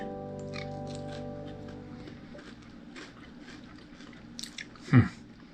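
Crispy beer-battered walleye fish crunches faintly during eating, a few soft bites and chewing noises after a fading low hum, ending in one sharper, louder crunch near the close.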